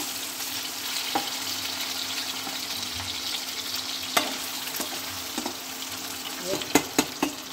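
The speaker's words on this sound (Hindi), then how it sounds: "तो थोड़ा हल्का फ्राई करना है, ज़्यादा डीप नहीं" Steady oil sizzle of fish shallow-frying on high flame, with a few sharp clinks and scrapes from a utensil toward the end; no talking.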